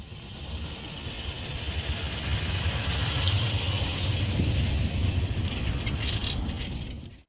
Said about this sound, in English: we're driving off with our new truck